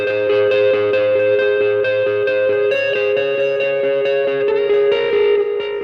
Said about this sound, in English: Throw some delay on that, and if you want something real washy, your reverb tone